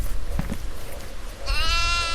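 In the horror video game Devour, a goat gives a short bleat after some muffled thumps and movement, then a louder, wavering drawn-out bleat close by.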